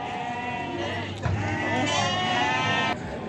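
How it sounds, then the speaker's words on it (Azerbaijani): Lambs at a sheep market in Füzuli bleat loudly and close by, several overlapping calls over a murmur of background voices. "bu belə quzular var."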